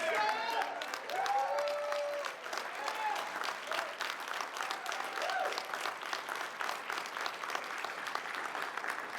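Crowd at an awards ceremony applauding and cheering as team members stand, dense steady clapping with whoops throughout, moderately loud and continuous.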